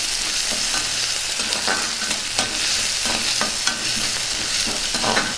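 Chopped onions, green chillies and curry leaves fry loudly in a pan for a taro root fry, a dense continuous sizzle with frequent scraping stirs close by.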